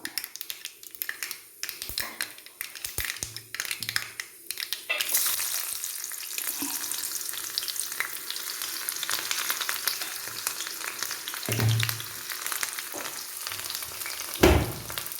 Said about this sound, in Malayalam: കടുകിട്ട് കൊടുക്കാം കടുക് പൊട്ടി നമുക്ക് ഉള്ളി ചേർത്ത് ഇട്ട് കൊടുക്കാം